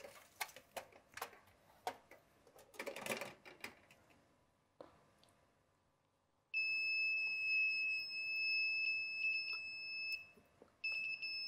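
Obstacle-detecting smart glasses for the blind sound a steady electronic alarm tone that starts abruptly after scattered knocks and handling noises, then stays loud and close, stuttering briefly before resuming.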